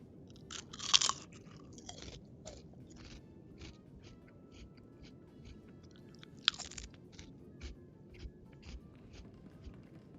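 Close, loud crunchy chewing of fried fake chicharrones, two sharp bites standing out and quieter repeated crunches between them.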